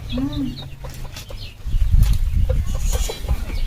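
Hens cluck nearby in short bursts, mixed with rustling and some low background noise and a brief voice.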